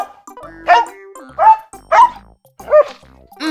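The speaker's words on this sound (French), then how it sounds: "Le chien aboie." A dog barks four times in a steady rhythm, each bark loud and close. Clear quiet gaps separate the barks, and nothing else is heard.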